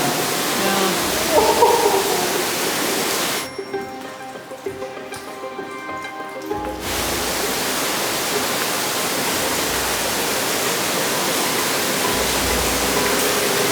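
Broad, loud rush of a rain-swollen river at a fording point, steady and close, cutting out for a few seconds partway and then returning, with brief speech over it.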